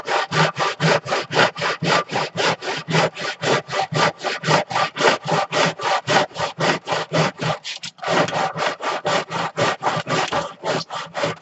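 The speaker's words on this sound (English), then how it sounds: "Line this up, shove it over, hold it down, bring the handsaw, start saw." A handsaw cuts through a piece of plastic held in a miter box. Steady, even back-and-forth strokes come about three to four per second, close and loud, with one brief pause near the end before the rhythm resumes.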